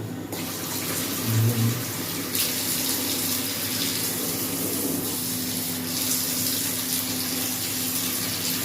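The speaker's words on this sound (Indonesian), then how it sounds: "ini kita mau kuras terlebih dahulu sisa-sisa airnya" Leftover water drains steadily out of a hot-and-cold shower unit before it is taken apart. The flow is a continuous close rush and splash that shifts slightly partway through, with no voices.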